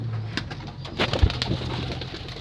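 Racing pigeons cooing softly at a loft, a few low, throaty coos close by over a steady background hum, with no talk.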